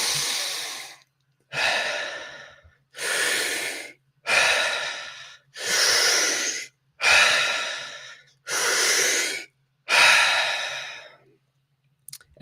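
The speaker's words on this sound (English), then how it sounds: "Deep breaths, sending the air to the depths of our lungs and then into our chest" Eight slow, deep breaths during a morning breathwork session, each a long airy whoosh separated by short pauses, close and loud with no talking.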